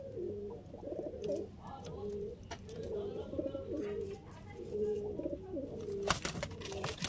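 Several Lalsira and KTM Teddy pigeons coo nearby in a repeating rolling rhythm over seven seconds, with a few sharp clatters and a burst of noise near the end.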